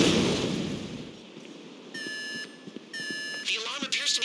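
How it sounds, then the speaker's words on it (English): Repeated electronic alarm beeps sound in GTA 5 during a heist raid on a sealed server room, coming in two steady bursts of even tone with faint game noise and brief talk beneath. "The alarm appears to be active."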